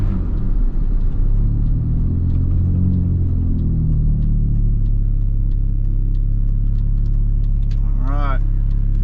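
A Mini R53 engine with a sprint booster fitted rumbles loud and close as the car pulls away, a low steady drone with a short chirp near the end.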